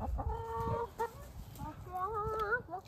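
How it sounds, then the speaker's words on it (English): Backyard chickens clucking and crooning nearby, a series of warbling, pitched calls in two clusters over a low background rumble, fairly faint and with no clear talk. "Hi, chickens. You're gonna be internet famous."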